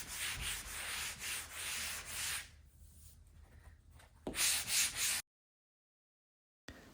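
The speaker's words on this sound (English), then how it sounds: "Give everything a quick sand." A hand sanding block rubbing over painted wood in a hallway renovation, with rhythmic back-and-forth scraping strokes, close and fairly loud, then a quieter pause, another burst of strokes, and a short silence.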